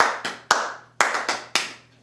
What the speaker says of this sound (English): someone claps a rhythm